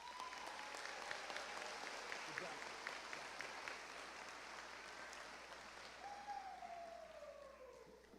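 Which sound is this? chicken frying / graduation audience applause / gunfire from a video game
graduation audience applause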